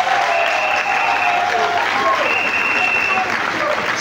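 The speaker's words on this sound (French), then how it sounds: "applaudissons-le." A crowd at a political speech gives sustained, dense applause for several seconds, clapping close and loud with some voices mixed in.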